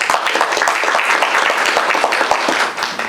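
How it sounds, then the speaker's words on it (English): An award ceremony audience breaks into loud, continuous applause, many hands clapping densely and close, holding steady for a few seconds before easing slightly at the end. "So give yourself a round of applause,"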